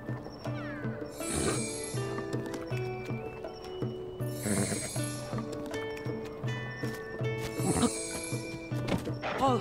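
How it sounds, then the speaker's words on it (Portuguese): A horse in the video game Zelda: Tears of the Kingdom, with hoof clip-clops and repeated whinnies over steady game music and ambience, close and moderately loud. "É bem lindo esse cavalo"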